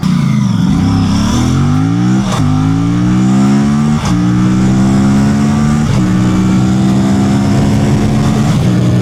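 Aprilia RS 457 motorcycle engine pulling hard under acceleration, its loud, close drone climbing in pitch and then dropping sharply at several gear shifts roughly every two seconds, with no talking.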